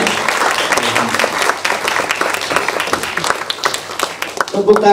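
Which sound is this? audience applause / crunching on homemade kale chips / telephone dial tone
audience applause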